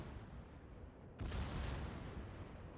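A Yamato battleship's front turrets firing in World of Warships: a sudden heavy boom that swells into a sustained rumbling roar, loud and broad over steady background battle noise.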